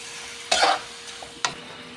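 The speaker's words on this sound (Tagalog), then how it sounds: "kumukulo-kulo na yung ating pusit" Squid adobo sizzling in a pan as it is stirred, with two short scraping stirs over a steady soft simmer.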